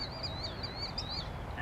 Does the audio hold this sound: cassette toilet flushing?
no